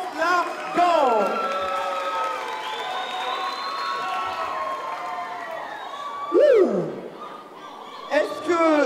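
Crowd cheering and applause for a street dance show finale, a loose mix of claps, whoops and laughter with overlapping voices and talk throughout.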